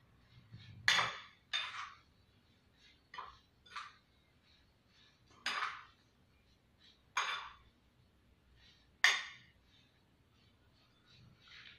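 Spoon scraping and knocking against a bowl as marinated soya chunks are tossed with masala and olive oil, several separate sharp clinks spaced apart in a quiet room.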